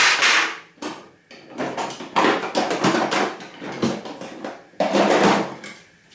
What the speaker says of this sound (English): I'm just going to get a little pliers to loosen the nuts on the back of that.